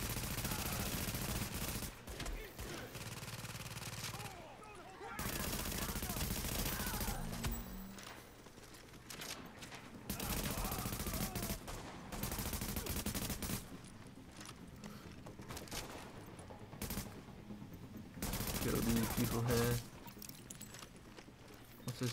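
Turret weapon firing in The Division, with bursts of loud automatic gunfire and fusillades coming in several blocks separated by brief lulls, close and dominant throughout.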